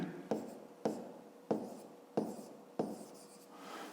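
A pen writes numbers into a table on paper in five short scratchy strokes, each a quick scrape that fades, close by and fairly quiet.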